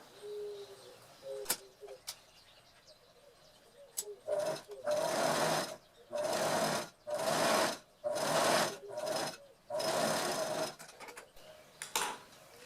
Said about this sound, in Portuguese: Eu vou dobrar ele assim, frente com frente, e vou passar uma costura aqui